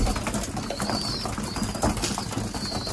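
Young racing pigeons are fed by hand with a heavy breeding grain mixture, with soft close pigeon sounds, fluttering and rustling over a busy, continuous background.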